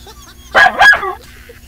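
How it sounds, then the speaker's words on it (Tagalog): A dog gives two quick, close, loud barks in succession, followed by quiet. "Ang cute ng tahol."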